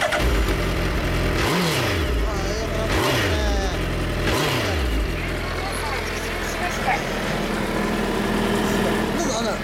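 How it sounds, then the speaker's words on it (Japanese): A European-spec 2014 Suzuki GSX1300R Hayabusa revs three times in quick succession, each sharp rising blip falling back to a steady idle that then carries on alone, loud and close, with faint voices in the background. "エンジン音聞かせてもらえますか？"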